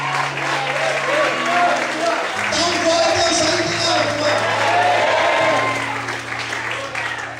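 A church congregation claps steadily and loudly at a worship service, a dense sustained wash of applause with someone speaking over it and music underneath throughout.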